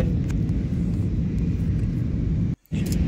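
Steady broadband airplane cabin roar as the flight slows on approach to landing, loud and continuous with a brief dropout near the end.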